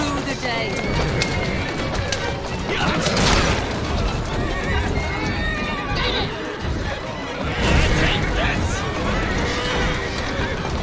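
Horse-drawn carriages rattle through the streets of Assassin's Creed Syndicate, with horses whinnying loudly twice and hooves clopping amid city noise, while characters talk over the action.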